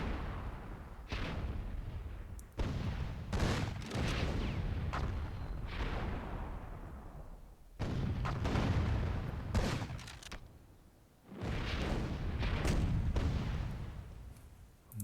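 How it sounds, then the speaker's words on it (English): Heavy gunfire and explosions against a tank in the WWII-themed Myth II Soulblighter battle, with roaring blasts in several long waves and brief lulls between them, dense and booming throughout. "not sure why Xenophone is shooting a tank rather than going after these super cannons"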